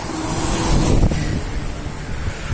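Strong outdoor wind buffeting the microphone in a town, a steady low roaring rumble that swells and eases, with faint traffic-like noise underneath.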